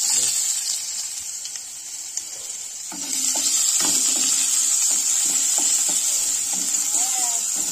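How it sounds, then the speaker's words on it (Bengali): Chopped onions frying in hot oil in a wok, a strong steady sizzle that swells louder partway through as they are stirred, with occasional light scraping and faint speech underneath. "পেঁয়াজগুলোকে ভাজা ভাজা করে নেব।"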